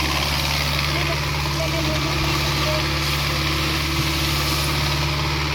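A loader's engine drones without a break, steady and close, with a low hum running through the whole clip. No other sound breaks in.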